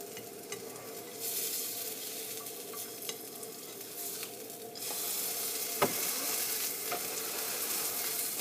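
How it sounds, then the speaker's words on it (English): A banana and egg pancake fries in oil while being pressed down in the pan, a soft, quiet sizzle that swells louder midway, with occasional light scrapes and taps of a spatula and no voices. "Make sure you press it a little bit so the oil seeps into the pancake."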